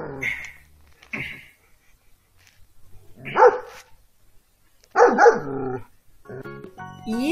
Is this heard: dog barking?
yes